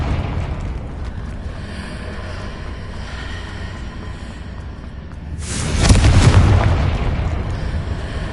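A blast from the Confringo blasting spell bursts out of a steady rumbling background, a single loud, booming explosion with a long decaying roar, no voices present.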